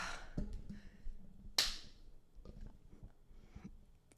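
A single sharp hand clap rings out once near the middle, close and bright, set among quiet room noise and faint shuffling.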